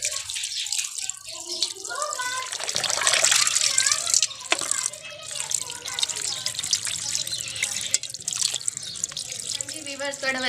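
Running tap water rinses masala off fish pieces in a village kitchen, a steady splashing stream with drips and clattering handling sounds, and a voice talks intermittently over it.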